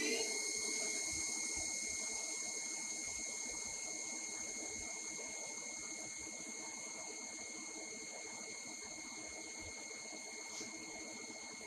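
A TL1 metal lathe runs steadily while turning studs without coolant, giving a constant high-pitched motor whine with layered tonal harmonics and a low churning rumble. The sound stays close and even and slowly fades a little.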